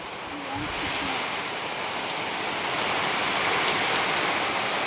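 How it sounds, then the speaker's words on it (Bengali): Steady, heavy rain pours down in a dense hiss that grows slightly louder toward the end. "রোদ থাকতে থাকতে বৃষ্টি চলে আসছে"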